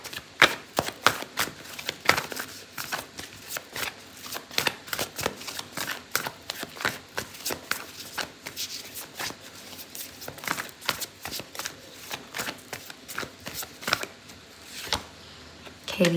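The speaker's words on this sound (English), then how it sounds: "I'm gonna pull out an oracle card for you." Oracle cards shuffled by hand for a tarot reading, giving a long run of quick papery riffles and flicks close up, steady and brisk, with no talking.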